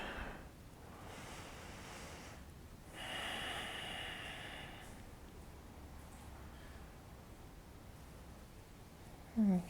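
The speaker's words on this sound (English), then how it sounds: "A few easy breaths." Slow, easy breathing during a yoga cool-down, soft drawn-out breaths over a faint airy room hiss, one louder exhale midway and a brief bump at the end.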